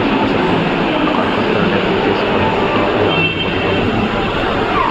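A train in Chennai gives off a loud, continuous rumble and rattle, close and steady, with no talk.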